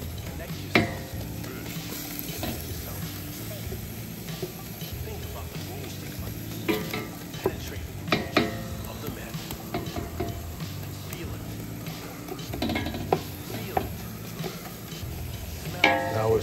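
Steady sizzling of meat frying in butter in a pan for Bolognese, with intermittent scraping and clinks of a utensil stirring throughout.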